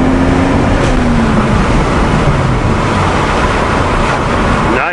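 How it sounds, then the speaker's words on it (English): A 1993 Toyota Supra turbo with a fart can exhaust drives under load, its engine a loud, steady, raspy drone with wind noise, the pitch sliding down and then rising sharply as it revs at the end. "It looks like you've got a fart can in the back."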